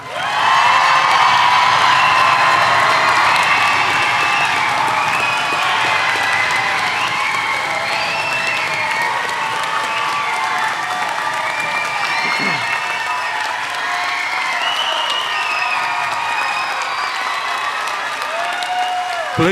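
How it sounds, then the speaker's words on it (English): A large graduation commencement audience of friends and family claps loudly and continuously for the graduating class, with scattered cheers and whoops rising over the dense, sustained applause; voices carry faintly through it. "please join me in a round of applause as I present to you the class of"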